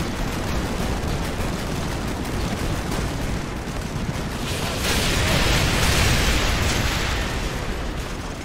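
Continuous wartime battle din in Call of Duty Modern Warfare 2, with artillery fire rumbling as dense, steady booming noise that swells louder midway and stays heavy to the end, no speech over it.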